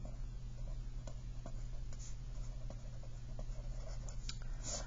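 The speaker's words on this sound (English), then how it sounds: "I'm going to write it on here." A pen or marker scratching out a math formula during a lesson, a soft continuous scribble with short strokes and taps, faint and close over a steady low hum, no voices.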